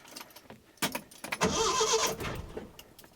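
Starting a 1971 Datsun 510. Keys rattle, the starter cranks briefly, then the engine catches with a rising roar that settles back down, all close by.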